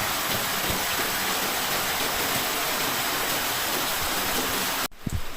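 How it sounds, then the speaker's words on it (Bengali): Heavy rain pours in a dense, steady roar with water running over flooded ground, loud and close, filling nearly the whole stretch before a brief dip and some scattered splashes at the end. "কিন্তু আজকে এত বৃষ্টি"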